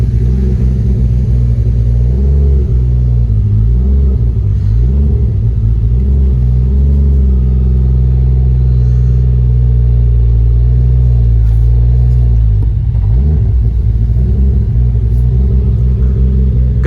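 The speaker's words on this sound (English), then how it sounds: "Try not to hit my other cars on the driveway as I'm backing out." A Mk3 Toyota Supra idles and rumbles as it backs slowly out of a driveway, a loud, steady low engine drone with slight rises in revs.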